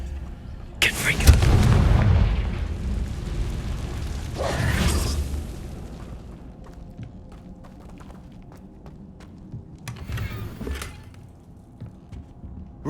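Blasts from the Confringo fire spell in Hogwarts Legacy go off as two loud booming explosions close together near the start, then a third smaller burst later, each followed by a fading rumble.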